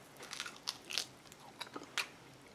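Crisp bites into an oven-baked chicken wing with crunchy skin, several sharp crackling crunches close to the mic, spaced irregularly and heard alone without talk.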